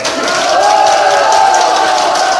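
Audience at a Korean political rally announcing a district mayoral candidacy, clapping and cheering together in a dense, loud, steady wall of sound that swells slightly and holds to the end.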